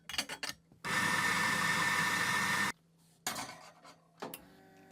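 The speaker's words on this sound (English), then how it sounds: "I'm going to try the new grind size of 230 microns to see how we go." A Mahlkonig coffee grinder set to 230 microns runs in one loud, steady burst of about two seconds, then stops, followed by a few short knocks and taps.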